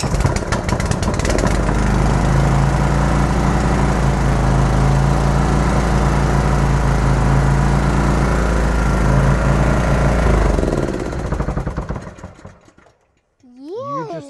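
Close and loud, a Honda GX160 small engine on a barn-find compressor runs steadily after a carburetor rebuild, a rough constant drone for about ten seconds before it is shut down and winds out; voices follow briefly afterward.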